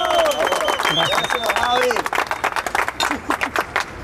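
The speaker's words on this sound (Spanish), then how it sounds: "Un aplauso para el señor." A crowd claps and cheers for the blue team captain at a street challenge event. Someone speaks over the start, then scattered, uneven clapping carries on alone.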